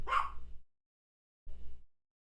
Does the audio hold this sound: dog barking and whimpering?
yes